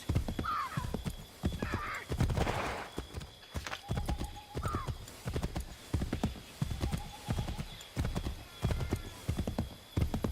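Horse hooves clip-clop steadily at a riding pace in the game Assassin's Creed 3, close and rhythmic, with a couple of brief whinnies and faint ambient sounds under them.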